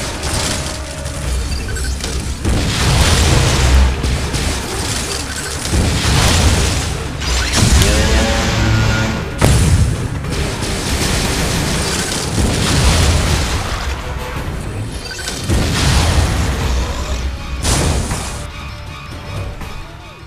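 Missiles firing and heavy explosions in the video game Metroid: Other M, a dense, loud stream of booming blasts and crashing impacts with rumbling debris and mechanical clatter, surging and fading in waves.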